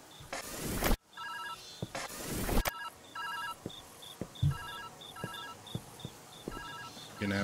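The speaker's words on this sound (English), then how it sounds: "Gonna have to get to the phone." A telephone rings repeatedly in the puzzle video game Viewfinder. Short bursts of trilling bell tones come at a regular rhythm, moderately loud, alongside footstep-like thumps and two loud whooshing sweeps near the start, with no talking.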